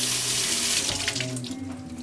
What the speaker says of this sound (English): So we give it a rinse. Use a little soap.